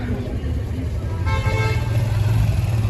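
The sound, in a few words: traffic jam with car horns honking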